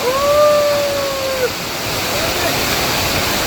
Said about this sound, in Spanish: Video desde la cascada.